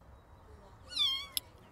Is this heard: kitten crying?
yes